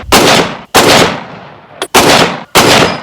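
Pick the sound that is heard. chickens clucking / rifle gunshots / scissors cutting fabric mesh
rifle gunshots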